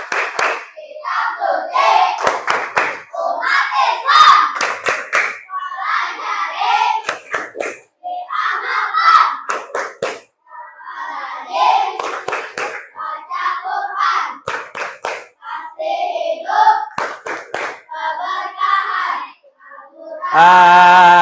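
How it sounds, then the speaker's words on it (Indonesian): Schoolchildren perform a rhythmic Qur'an clapping chant in a classroom, with loud bursts of hand claps alternating with group voices chanting in a lively beat. "Coba tepuk Al-Qur'an."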